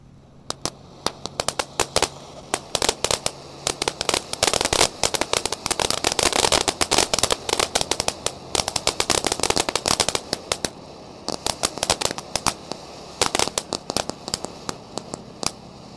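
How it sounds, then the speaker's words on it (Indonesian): Dense crackling from a fountain firework, rapid popping bursts that build up, stay intense, then thin out into scattered crackles. "di sini ada beauty fountain air mancur Pratek bola warna-warni guys"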